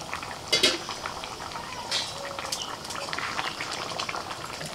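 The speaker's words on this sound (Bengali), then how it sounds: "এবার ঢাকা দিয়ে চিকেনটা আরেকটু সিদ্ধ হতে দিচ্ছি।" Chicken simmering in gravy under a lid in a pot, a soft bubbling boil with a few clinks of utensils and lid against metal near the start.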